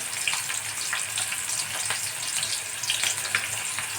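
Green chillies fry in a pan with a steady, close sizzle and scattered small crackles and pops. No one speaks.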